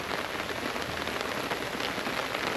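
Rain falling outdoors in a steady, even hiss of drops striking surfaces, fairly faint and continuous with no voices or thunder.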